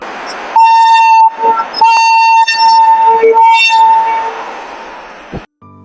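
A train horn blares loudly in repeated long tooting blasts, some overlapping, as the 11 o'clock train pulls away from a station near Kolkata, ending with a brief clunk.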